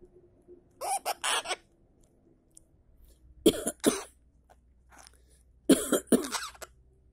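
A small parakeet gives three bursts of short, raspy coughs, spaced a couple of seconds apart, close by in an otherwise quiet room.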